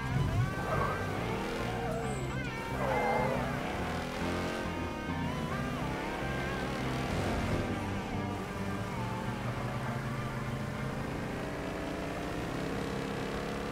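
A car engine roars in the Mafia 3 video game, a continuous, throaty, rumbling drone that runs throughout amid dense game audio.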